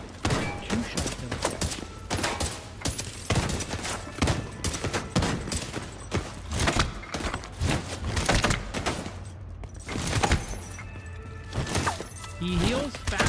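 Rapid video game gunfire crackles throughout, with repeated sharp shots and bursts in an irregular rhythm while a voice talks over the action.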